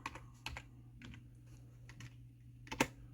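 Someone types a search for a Ford part on a computer keyboard, one-handed, producing sparse, irregular close key clicks with a sharper burst near the end over a low steady hum.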